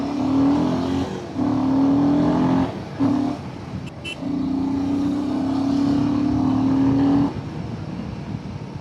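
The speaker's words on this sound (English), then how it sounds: "So I know you guys are hearing the exhaust note, the throttle response." Royal Enfield Himalayan motorcycle fitted with a Gorilla Apex exhaust, throttle blipped and held in several revs, a steady droning exhaust note rising and holding at close range, with short gaps between pulls.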